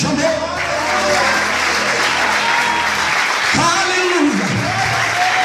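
A church mission congress audience claps together in sustained applause, a dense wash of hands that swells and holds over a loud hall backdrop mixed with music and an amplified voice.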